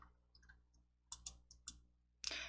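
Mouse clicks while selecting a title shape on a PowerPoint slide, a handful of sharp, quiet clicks spaced irregularly, ending in a slightly louder cluster.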